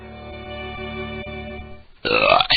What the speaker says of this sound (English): There you go, burp number 1